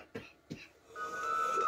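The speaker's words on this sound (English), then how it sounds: "I'm having a little cough" Two short, close coughs in quick succession from a person reacting to the game Baldi, followed by a steady high electronic tone.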